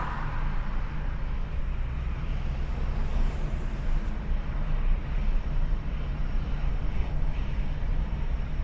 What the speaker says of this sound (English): It's a cargo plane